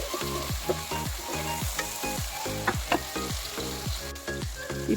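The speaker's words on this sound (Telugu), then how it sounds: "ఇప్పుడు క్యాప్సికమ్ ముక్కలు కూడా వేసుకుందాము ఇవన్నీ కూడా కొంచెం ఫ్రై చేసుకోవాలి" Capsicum pieces fry in a pan for Bangalore-style bisibelebath, with a steady close sizzle broken by regular, rhythmic spatula scrapes and stirs throughout.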